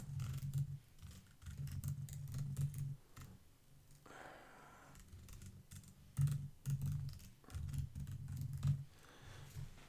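Someone types on a computer keyboard, filling in options for a Google Forms multiple-choice question: soft, quick key clicks in uneven bursts with a brief pause midway, faint and close.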